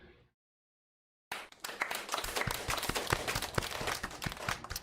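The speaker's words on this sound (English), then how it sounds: "Let's give her a round of applause, everybody." After a brief cut to silence, a small group breaks into brisk clapping, close and fairly loud, sharp individual claps carrying on steadily to the end.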